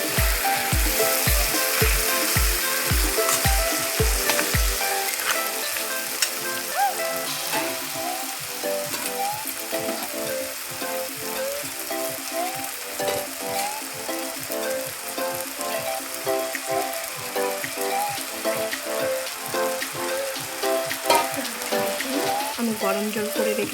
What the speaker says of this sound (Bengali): ডালের বড়িগুলো দিয়ে একটু নেড়ে চেড়ে দিয়ে দেবো